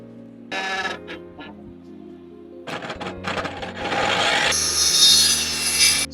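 A tool shaves wood off a wooden door sill in a run of rough rasping and scraping strokes. Short bursts come first, then longer continuous shaving that grows louder toward the end.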